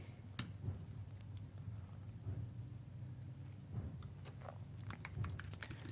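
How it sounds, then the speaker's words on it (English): Quiet, scattered keyboard taps come in short bursts over a low background hum, with a louder click near the start. "We're typing something wrong here, right?"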